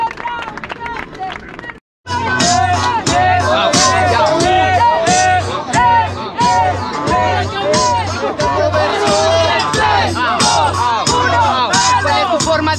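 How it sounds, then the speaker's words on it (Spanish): After a short pause, a crowd at a rap battle grand final bursts into loud clapping and shouting that stays dense and steady, with rhythmic beats and voices running through it. "¡Un aplauso para el primer round!"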